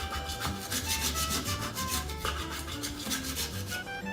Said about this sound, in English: Give it a little bit of a sawing motion